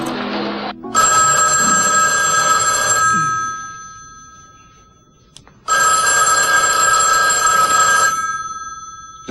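An old-style telephone bell rings in two long bursts about two seconds each, separated by a pause, loud and close in a quiet room; a brief voice is heard at the very start.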